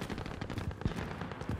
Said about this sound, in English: I hear some gunfire